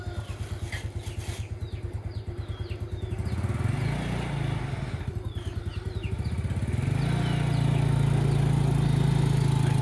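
Close by in a rural Thai village, a motorbike engine putters at a steady idle, then revs and rises in pitch as it pulls away, staying loud throughout.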